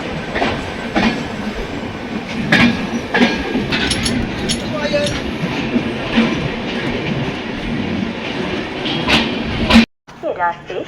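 Indian Railways passenger express, the New Delhi–Jammu Tawi Rajdhani Express, moving past with a steady loud rumble and rhythmic wheel clicks, then cutting off abruptly near the end.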